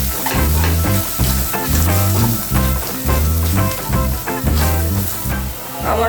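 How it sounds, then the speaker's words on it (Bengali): Spices, including ground black pepper and turmeric, are stirred as they fry in a pan for chicken mughlai paratha. Loud, close sizzling runs under a steady rhythm of scraping stirring strokes. "এগুলো আমি এখন নাড়িয়ে নেব।"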